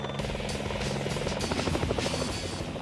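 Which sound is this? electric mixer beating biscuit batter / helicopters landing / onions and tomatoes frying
helicopters landing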